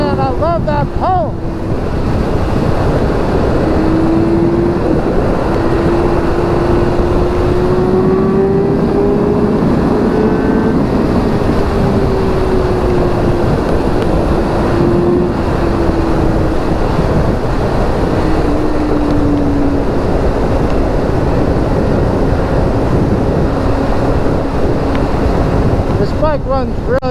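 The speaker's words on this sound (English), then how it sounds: "This thing runs awesome, especially for what it is, and it being 10 years old" A 10-year-old BMW S1000RR sport bike riding at speed, its engine tone rising and falling beneath heavy wind rush on the microphone, loud and continuous.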